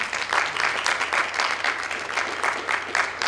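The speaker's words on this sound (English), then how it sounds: "Let's give a round of applause for our panelists." Audience applause for a panel of cyber security speakers, brisk, dense clapping from a room-sized crowd, close and steady for a few seconds.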